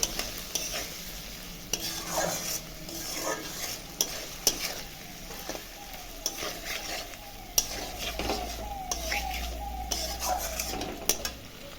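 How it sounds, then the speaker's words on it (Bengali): Potatoes with turmeric, salt and spices stir-fried in a pan, with a steady sizzle broken by repeated scraping strokes of a spatula and occasional clinks against the pan. There is no talking. "এখন মশলাটা আমি ভালো করে কষাবো আলুর সঙ্গে।"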